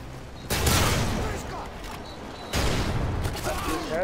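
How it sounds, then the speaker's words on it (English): Bursts of RPD machine gun fire rattle in an online shooter lobby, two loud rapid volleys about two seconds apart, with talk underneath. "Why the fuck is everybody spamming the RPD in this lobby, dude?"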